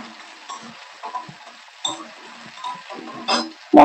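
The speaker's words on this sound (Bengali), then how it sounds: "এটাকে আমি এবার নেড়ে নেব।" Mixed vegetables are stirred in a pan, giving a series of soft, irregular scrapes and light ticking taps of a utensil against the pan, close by, ending in a sharper knock.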